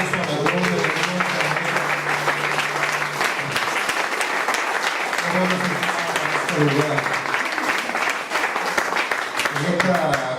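Church congregation applauding steadily throughout, a dense, sustained wash of clapping with sung or spoken voices rising over it at intervals.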